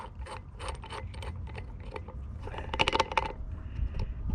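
A nut is adjusted on a wheel bearing race puller seated in the aluminum hub of a 1989 Harley-Davidson Sportster, producing close, irregular metallic clicks and ratcheting rattles, busiest in a brief burst near the end.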